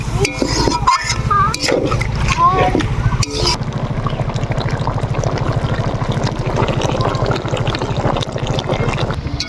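A little water being poured into chicken curry made with chicken legs, beginning with a few sharp knocks and clatters, then a fairly loud, continuous gush and bubbling that runs to the end.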